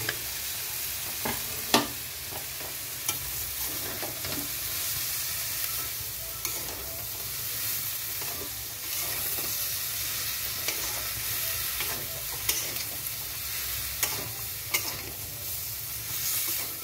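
Malabar spinach stir-fried in plenty of hot oil with spices, with a steady sizzle and repeated scraping strokes of a spatula against the pan, close and continuous with no talking.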